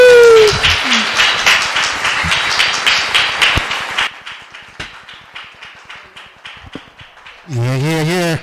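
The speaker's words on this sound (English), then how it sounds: "Keep it clapping for J. Sam and Fabian" Studio audience clapping on a talk show, a dense burst of applause through the first half that thins into scattered claps, ending with a loud sustained tone.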